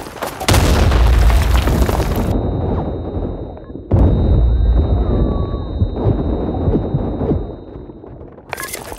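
A grenade blast in the shooter Blackshot, a deep booming detonation with a second heavy burst midway, loud and rumbling amid chaotic gunfire and game noise.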